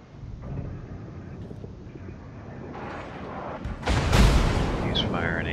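A tank's high-explosive shell fires in a video game as a sudden loud boom with a trailing rumble, rising out of a steadier background of game noise and battle sounds.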